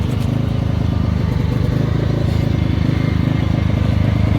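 A Ryobi 1800W/2300W inverter generator on its first start for break-in, its small engine running loud and close with a steady, even drone and fine rapid pulsing throughout.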